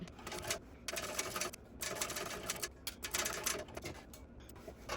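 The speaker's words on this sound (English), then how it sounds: "I'm going to use my 5 stitch length and just go across the bottom, back stitching at the beginning and the end of the seam line" A sewing machine set to a 5 stitch length runs a straight seam across the bottom of a tote bag, backstitching at each end. It makes close, steady whirring bursts that stop and start several times, with no talking.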